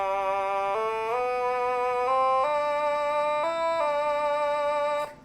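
The opening phrase of Twinkle Twinkle Little Star plays on an otamatone as a string of buzzy, nasal, voice-like notes that step up and down in pitch, each held briefly. The notes are loud, close and solo.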